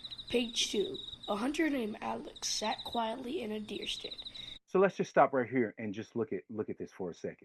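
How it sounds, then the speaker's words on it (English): Crickets chirp steadily through a forest scene, a thin sustained high trill running beneath a narrator reading a story aloud, the insect sound AI-generated with ElevenLabs. "You hear the crickets in the background"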